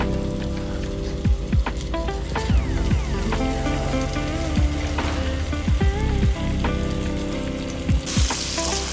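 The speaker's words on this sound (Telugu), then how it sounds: "ఇలా వేసుకొని దీన్నంతా ఇట్లా మంచిగా ఫ్రై చేసుకోవాలి" Steady loud sizzling of a ground paste frying in a pan, with occasional scraping and clinks from stirring, no voices.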